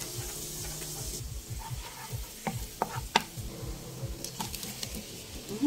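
Garlic sautés in butter and cooking oil, making a quiet, steady sizzle under repeated clicks and light knocking utensil sounds.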